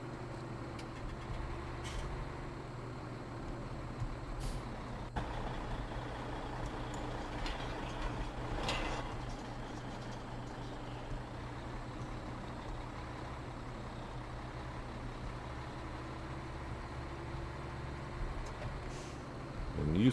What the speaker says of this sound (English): So let's bring this truck right on down here.